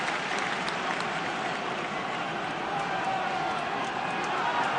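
A rugby stadium crowd roars steadily for Ireland during a match against New Zealand, a dense, continuous wash of cheering and noise with no breaks, heard at a distance under faint commentary.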